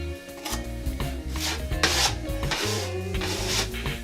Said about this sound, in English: we just let it set, and then we come back and scrape it